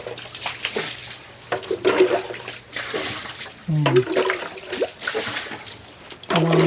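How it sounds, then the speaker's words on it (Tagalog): Clean water is poured and splashed across a surface to wash away sticky flood mud, a steady running, splattering wash with brief louder gushes, heard close under a person's speech. "Kailangan buhusan talaga ng buhusan ng malinis na tubig. Kasi para mawala yung mga putik."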